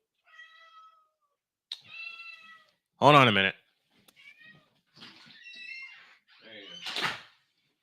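A cat meows repeatedly and climbs at a door, wanting to go out, with several short cries and one loud, insistent yowl, plus a thump or rattle from the door; someone speaks briefly in between.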